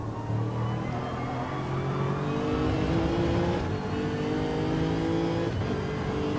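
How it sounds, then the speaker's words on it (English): Race car engine in a GTC World Cup sim racing game revving high and steady, harmonic pitch sweeping upward through gears, loud and continuous with no talk. "Truth is definitely revving the engine out a little bit further in the car"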